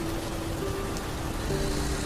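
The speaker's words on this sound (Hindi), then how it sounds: "ट्रक थोड़ा और आगे बढ़ा ही था कि बारिश तेज हो गई।" Heavy, steady rain pours across a broad hiss in a horror cartoon scene on a dark night, filling the whole stretch evenly with no voices and no thunder rising above it.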